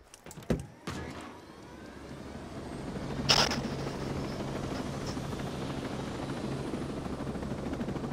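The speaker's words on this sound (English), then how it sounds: "I'm in the helo. The helicopter." Helicopter in the video game Ghost Recon Breakpoint, a steady rotor and engine drone that sets in after a few sharp thumps and keeps going without talk.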